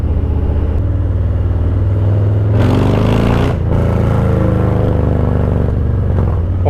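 A Harley-Davidson Low Rider S motorcycle engine rumbles steadily while riding, a loud continuous low throb that swells briefly as the revs rise, with no voices over it.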